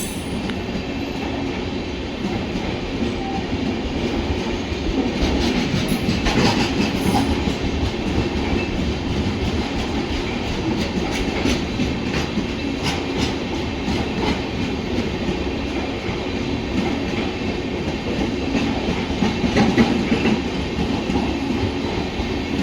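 An express train runs through platform 1 of Mangaluru Junction without stopping, a loud continuous rumble of wagons and wheels with rhythmic clatter and occasional squeal, sustained close by for over twenty seconds, no voices.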